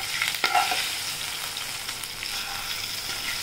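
Fried tempering goes into a pot of sweet-and-sour dahi kadhi and is stirred, giving a brief clatter near the start, then a soft steady sizzle and light scraping with no one talking.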